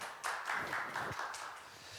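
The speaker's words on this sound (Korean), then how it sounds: "여러분 큰 박수로 맞이해 주시기 바랍니다" An audience at a Korean volunteer session of an international friends day claps to welcome a psychiatrist lecturer: a quiet, scattered patter of hand claps over two seconds.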